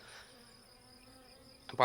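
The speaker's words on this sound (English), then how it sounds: "And speaking of bees, they're all in this buckwheat too." Bees buzz among flowering buckwheat in a garden, a faint steady insect drone for most of the moment before a louder, closer burst near the end.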